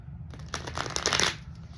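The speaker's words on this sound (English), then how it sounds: "So I am going to do the Yin Yang Oracle cards." Oracle cards from a Yin Yang deck being shuffled by hand, a brief soft flurry of riffling card clicks, close and fairly quiet, with no talking.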